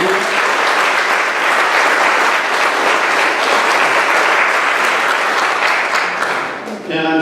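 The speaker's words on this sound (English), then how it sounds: "let's give a round of applause to our participants and the board for leading." Loud, sustained applause from an audience at an annual meeting program, steady dense clapping throughout that begins to thin out near the end.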